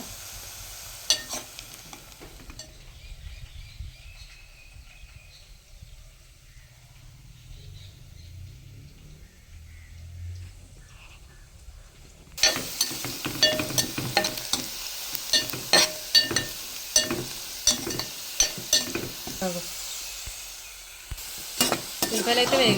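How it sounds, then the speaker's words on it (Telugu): Sliced onions fry in oil with sugar for biryani, with a soft sizzle that turns louder and busier with rhythmic stirring and scraping strokes in the pan. "ఉల్లిపాయలు కొంచెం వేగాయి కదా మనకి చూడండి"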